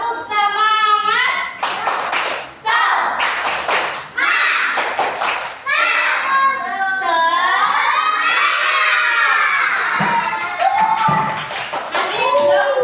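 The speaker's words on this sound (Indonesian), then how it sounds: "Tahu tepuk semangat? Tahu. Bisa ya? Tepuk semangat." Second-grade schoolchildren in a classroom doing the rhythmic tepuk semangat clap, bursts of patterned claps alternating with loud children's chanting and shouting, close and lively.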